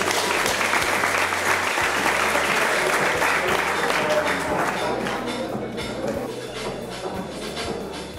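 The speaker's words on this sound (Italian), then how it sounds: "Un bel applauso, dai" Steady audience applause at a youth cooking competition, dense clapping from many hands filling the hall at an even level, easing slightly toward the end, with a low background hum.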